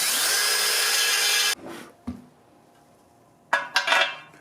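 Power drill with a carbide bit enlarging a hole in aluminum during a 2008 Chevy Cobalt turbocharger install: a loud steady high whine that cuts off abruptly, then a brief clunk and a second short burst of drilling.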